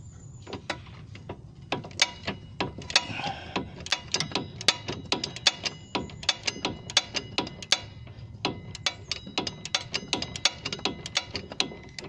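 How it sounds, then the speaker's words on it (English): A spanner works a drop link nut on a Vauxhall Astra G Mk4, giving rapid metallic ratcheting clicks in repeated bursts with short pauses, close and clear with no talk. "So same again on the bottom, get your spanner on the flats."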